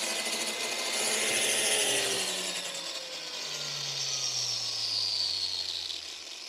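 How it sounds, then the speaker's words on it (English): A steady grinding whir from a valve seat grinding stone orbiting on the seat of an engine cylinder head, nearby and fairly loud, with a rising and falling machine tone over several seconds and no voices. "The stone actually orbits around and grinds the surface a little at a time."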